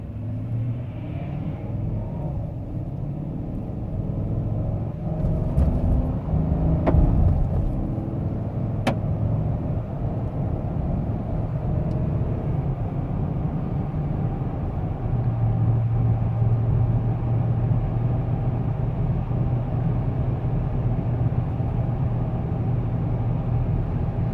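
A 2015 Chevrolet Silverado LT Z71 pickup pulls away from a stop under normal throttle, heard as a steady low engine rumble that swells gently as it accelerates, with a couple of brief clicks early on.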